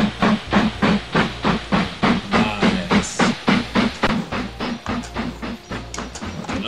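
A steam train runs in the train simulation game Mashinky, with loud rhythmic chuffing bursts pulsing evenly about twice per second, close and continuous throughout with a hissing undertone.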